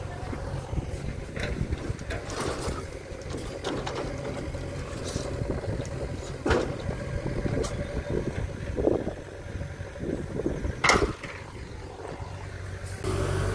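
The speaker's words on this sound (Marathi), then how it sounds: "हे बघा आता आपली गाडी इथं खाली सुरू बघा" A loaded truck unloads its cargo of coconuts, its engine running steadily underneath rattling, clunking mechanical sounds and occasional sharp knocks, at moderate distance.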